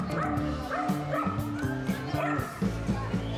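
Several Pomeranians bark and yip in short, repeated bursts at a close distance in a busy pet market, with occasional whimpers and faint voices of people in the background.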